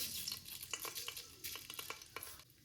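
Mustard seeds crackling and spitting in hot oil inside a pressure cooker while making vangi bath, a steady close sizzle broken by small pops and stirring scrapes, no voices.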